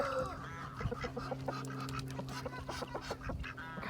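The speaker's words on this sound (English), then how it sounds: "Ducky's got a lot to say to me." A duck quacks repeatedly in short, chattering bursts nearby, over a steady low mechanical hum on a farm.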